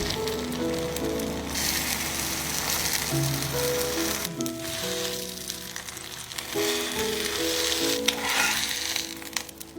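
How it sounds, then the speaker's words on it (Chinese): Steady hiss and crackle of an egg frying in a nonstick pan, alongside soft musical tones throughout. "锅一定要是不粘锅，蛋也不要煎得太熟"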